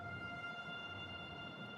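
A train in the Factorio video game, Seablock mod, rolls past as a faint, steady mechanical hum with a few sustained tones, low and continuous throughout.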